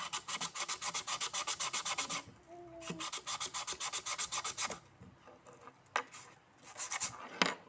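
Rapid, regular rasping strokes of an iron nail being rubbed with sandpaper, close by, pausing briefly before a few more scattered scrapes near the end.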